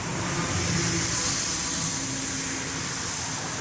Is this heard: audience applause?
no